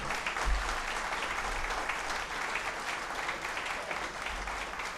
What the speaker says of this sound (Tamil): இந்த கைத்தட்டு பத்தாது